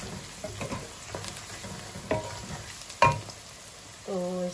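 Coarsely ground garlic frying with golden brown onions, a soft sizzle broken by several stirring scrapes and a sharp clack against the pan, then a brief steady tone near the end.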